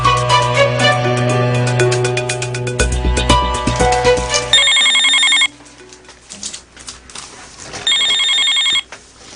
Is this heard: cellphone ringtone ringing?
yes